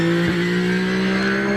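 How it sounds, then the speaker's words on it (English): A V8 race car at the Shelsley Walsh hillclimb, a loud, steady, close engine drone holding a constant pitch with no other sound. "Sounds like a V8 in the back."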